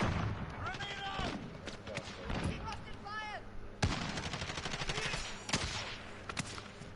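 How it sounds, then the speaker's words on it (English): Gunfire and a grenade blast in a first-person shooter match on a map with heavy sniping, with sharp shots and a louder explosive burst midway over continuous battle noise, and a voice talking throughout. "Grenade out!"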